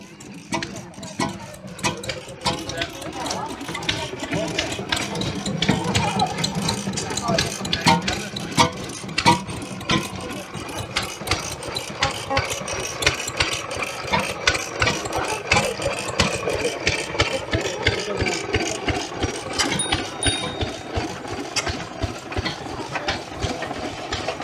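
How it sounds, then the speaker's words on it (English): Vintage stationary engines chug steadily at an outdoor classic car show in Pembrokeshire, a dense, continuous low mechanical running with rattling beats, fairly close, with voices and crowd noise mixed in throughout. "Yep, you can hear the stationary engines."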